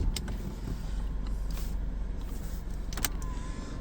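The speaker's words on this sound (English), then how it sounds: "Fully automatic window for the driver." A fully automatic driver's power window on a 2020 Nissan X-Trail ST runs with a low steady motor hum inside the car, punctuated by a few short clicks and knocks.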